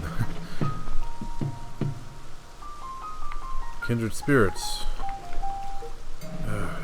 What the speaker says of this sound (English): Of course it's raining right when I need the...